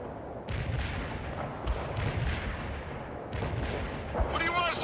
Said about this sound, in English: Bring artillery ready for action. Firing at coordinates.